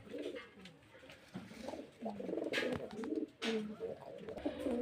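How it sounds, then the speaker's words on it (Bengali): Giribaj pigeons at a pigeon sale in Murshidabad, West Bengal, coo in soft repeated throaty phrases nearby, with faint background noise between calls. "মুর্শিদাবাদের গিরিবাজ লাইনে পায়রা এসব পায়রাগুলো"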